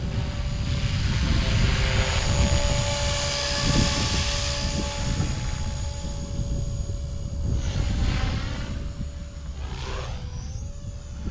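A Fusion 180 RC helicopter flies inverted in stunt mode, its rotor and motor whining steadily and loudly close by, with the pitch swelling and dipping as it hovers upside down.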